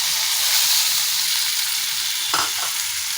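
A paste of turmeric and Kashmiri chili powder mixed with water fries in a hot pan, making a loud, steady hissing sizzle close up, with a single spatula clank near the end.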